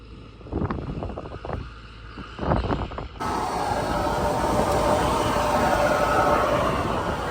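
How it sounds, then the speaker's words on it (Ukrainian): Wind blows across a corn field during sowing. A few knocks and thuds come first, then a steady, loud rushing roar fills the rest of the clip. "Вітер."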